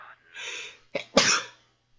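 A single sharp sneeze bursts out close by after a short breathy intake, followed by silence; a few people are heard chatting during a spooky online game session.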